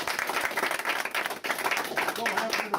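An indoor audience claps for Mitch at a community group meeting visited by the Department of Corrections commissioner, a dense burst of applause with talking mixed through it.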